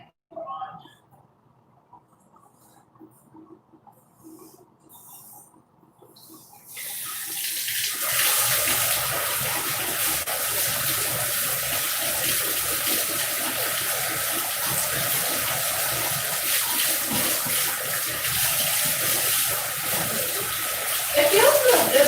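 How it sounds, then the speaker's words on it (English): Tap water runs steadily and loudly into a sink as henna is rinsed off hands, starting after a few quiet seconds with faint sounds and continuing as a constant rushing stream to the end. "so I'm gonna try and rinse my hands"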